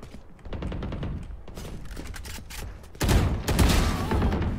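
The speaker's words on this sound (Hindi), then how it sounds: "शॉट है डेविल भाई का, खेलते रहे डेथ मैच" Valorant deathmatch gunfire crackles in dense bursts throughout, with a louder, heavier volley of shots kicking in about three seconds in; no talk is heard.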